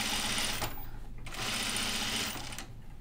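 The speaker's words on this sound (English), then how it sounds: "I'm sewing on top of it, close to the edge" A sewing machine runs in two steady bursts of rapid, close mechanical stitching separated by a short pause, understitching near the edge of a caftan facing.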